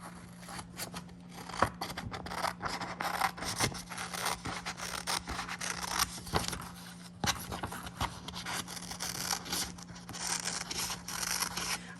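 Scissors cutting through composition notebook covers, a steady run of rough snipping and rubbing strokes at close range with no talk over them.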